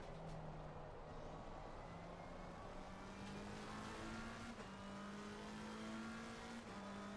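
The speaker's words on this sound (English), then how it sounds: "Right now, just getting this car warmed up again." A race car engine idles and revs steadily at a moderate pitch while warming up in a racing video game, a continuous droning hum with slight pitch steps and no talk.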